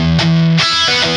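An electric guitar plays through a cloned amplifier impulse response with heavy distortion, a loud, thick sustained chord that cuts and restarts, saturated and close.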